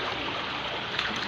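Water rushes steadily through a narrow creek clogged with banana leaves and trash, a continuous broadband flow that is fairly loud and close, with no talking.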